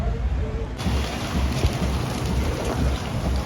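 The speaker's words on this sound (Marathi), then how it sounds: "बघू शकता तुम्ही पाऊस चालू झालं आहे" Rain pouring steadily during an outdoor palkhi procession festival, a dense, loud, continuous hiss with a low rumble underneath and no clear breaks.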